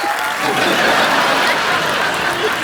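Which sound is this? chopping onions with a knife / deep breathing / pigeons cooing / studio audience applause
studio audience applause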